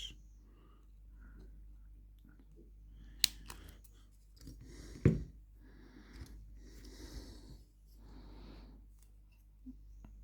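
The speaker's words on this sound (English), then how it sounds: "I've got some snips and some cardboard, some thin hard cardboard. So I'm just going to cut" Hand snips cut through thin, hard cardboard in a quiet room: a few sharp, crisp snaps and crunches spaced apart, with soft breathing and faint handling rustle between the cuts.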